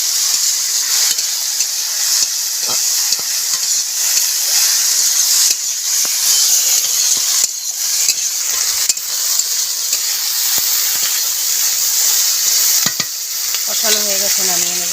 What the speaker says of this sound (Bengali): দিয়ে একটু আদা ভাজা করে নেব